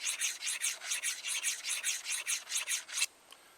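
Rhythmic rasping swipes of a Simmons broadhead blade being sharpened, about a dozen even strokes close up that stop abruptly near the end.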